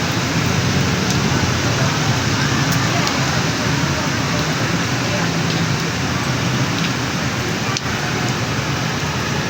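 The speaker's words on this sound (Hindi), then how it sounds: "बहुत तेज़ बारिश हो रही है।" Heavy rain pours in Karachi during an August downpour with flash flooding, a dense, loud, unbroken hiss with scattered drips and splashes throughout.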